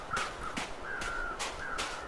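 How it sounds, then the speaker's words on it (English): Crows caw in The Long Dark, a video game, giving four or five harsh drawn-out calls at a steady pace, moderately loud over a low windy background. "Okay, I hear birds."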